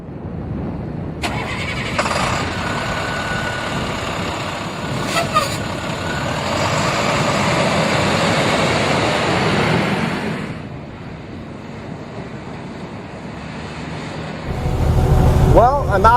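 International CXT truck, a huge pickup with a single exhaust stack, on the open road: a steady mid-pitched engine drone with passing rumble, clicks and knocks, and a louder low burst at the end.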